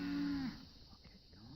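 A cow on a farm lets out a single low, steady moo, close by, out in the rain near hay on the ground, with faint outdoor background after it.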